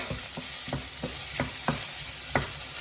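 A spatula scrapes and stirs black carrot cake in a wok over high heat, six or seven rhythmic strokes over a steady loud sizzle, close up with no voices.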